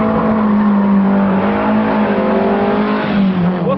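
A rear-wheel-drive car with a Lotus engine and ZF gearbox is driven hard on the throttle, its engine howling loud and close with a rising, wavering note and a hint of tire squeal.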